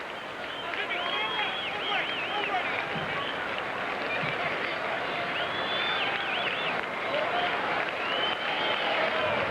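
Boston ballpark crowd at a 1999 Cleveland at Boston game, cheering and whistling for pitcher Pedro Martinez to strike out a batter, with a steady loud roar throughout and shrill whistles over it.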